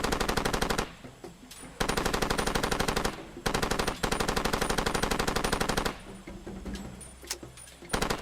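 Rapid automatic gunfire from the video game Far Cry 2 comes in loud, sustained bursts with short pauses between them, the rattling shots packed tightly together.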